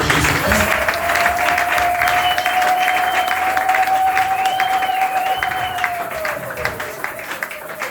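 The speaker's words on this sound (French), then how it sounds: "Acclamons le Seigneur Jésus-Christ" Congregation applauding at a Tuesday church service, steady dense clapping throughout, with a sustained tone from the service's sound system ringing over the applause.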